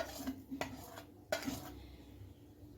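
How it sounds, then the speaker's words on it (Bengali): Spoon clinks and scrapes against a bowl while sifted gram flour batter with water and spices is stirred, a few sharp knocks followed by softer mixing, quiet and close. "এখন আমি বেসনের একটা ব্যাটার তৈরি করে নিব"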